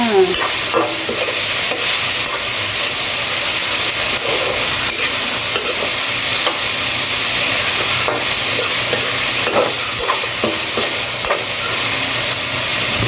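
Seasoned pork being stirred as it fries in a pan, with a steady loud sizzle and repeated scraping stirs throughout, no talk.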